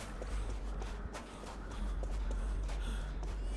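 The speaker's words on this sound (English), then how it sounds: "After running, your character breathes heavily" In Dead by Daylight, a survivor breathes heavily after a sprint, with faint rhythmic gasps and panting over soft footstep-like thuds in the game's quiet ambience.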